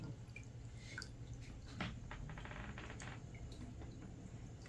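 Water poured from a 1-liter bottle, faint trickling and dripping close by in a quiet indoor room, with no talking.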